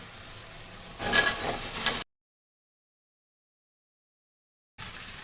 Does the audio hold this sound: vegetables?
yes